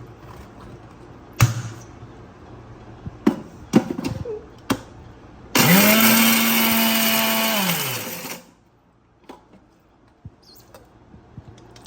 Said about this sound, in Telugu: ఇంకొంచెం గ్రైండ్, క్రీమ్ వేసుకొని గ్రైండ్ చేయి గైస్